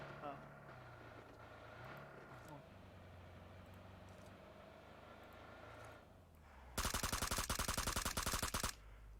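A rapid burst of automatic gunfire from PUBG Mobile rattles out loud for about two seconds near the end, following quieter game ambience and engine hum.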